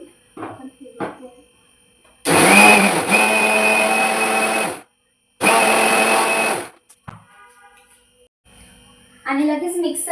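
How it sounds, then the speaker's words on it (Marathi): Two loud bursts from a home mixer grinder blending beetroot juice with jaggery and water, each a few seconds of steady whirring motor, separated by a short pause, with quiet handling noises and a voice speaking before and after. "परत एकदा मिक्सरला फिरवून घेते."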